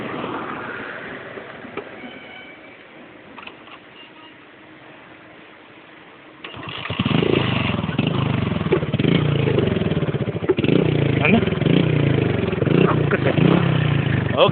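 A motorcycle engine fires up after a hesitant start and settles into a loud, steady running idle close by, following a quieter stretch of background noise.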